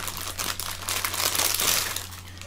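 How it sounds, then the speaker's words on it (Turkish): A plastic bag holding a product package is opened up close, giving a continuous crinkling and rustling for a couple of seconds over a low steady hum. "Bu poşeti açtığımız zaman"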